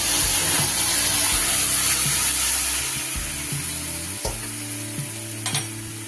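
Boiled spinach hits a hot pan with chopped ginger for a spice-free palong shaker ghonto, raising a loud, steady sizzle and frying hiss that runs throughout, with a few stirring clatters near the end.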